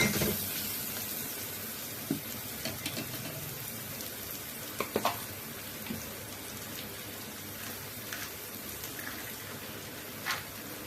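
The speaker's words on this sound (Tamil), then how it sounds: "காஞ்ச மிளகா இது வரைக்கும் நம்ம வந்து இதில் போட்டு நல்லா வதங்கினாங்க. நல்லா பொரிஞ்சு வரணும்." Dried red chillies, coriander and curry leaves crackle and sizzle steadily in hot oil while tempering pepper rasam, a dense continuous frying hiss with small pops throughout and no talk.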